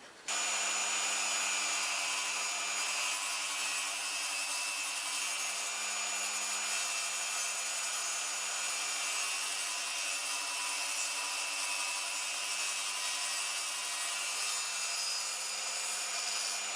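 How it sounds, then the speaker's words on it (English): Small tabletop saw cutting wood for a box joint jig, a steady loud whining buzz that starts abruptly and holds unbroken throughout, close by with no talking. "I just so happen to have this little tabletop saw."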